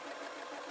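A sewing machine stitches a travel pillow, giving a faint, steady, even whir that runs without a break and with no voices over it.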